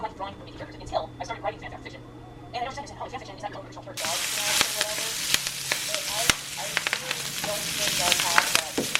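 A voice talks briefly, then eggs crackle and sizzle loudly in hot bacon grease. The close, continuous hiss is dotted with sharp popping spatters.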